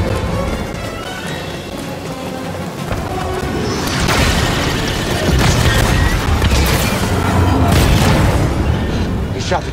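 A blast as a coupling is shot out in Star Wars Jedi Fallen Order, a heavy booming crash amid dense rumbling game noise, with voices speaking over it.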